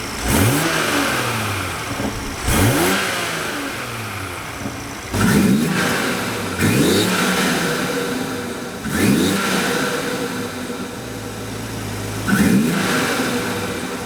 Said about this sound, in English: I'm gonna go start it up.